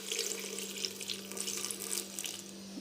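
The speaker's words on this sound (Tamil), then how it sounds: "ஒரு 1/2 டம்ளர் தண்ணி, தேவையான அளவு 1/2 டம்ளர் தண்ணி ஊற்றிக்கலாம்." Water is poured into a cooking pan holding turmeric, a steady splashing trickle close up that runs through the whole stretch with no talk.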